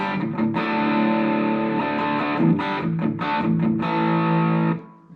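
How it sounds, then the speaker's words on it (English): A distorted electric guitar through a Positive Grid Spark amp on its crunch preset, with a crunchy, overdriven tone, plays chords steadily for about five seconds, then cuts off abruptly. "And then preset number 2 is a crunch sound."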